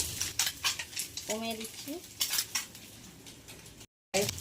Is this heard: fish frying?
yes